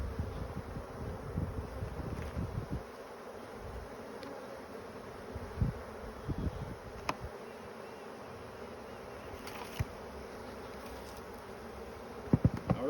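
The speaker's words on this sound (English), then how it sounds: "I got quite a few bees hanging out." Many bees in swarming season buzz continuously around a backyard hive, a close droning hum with individual bees passing near, plus light wind noise and scattered knocks.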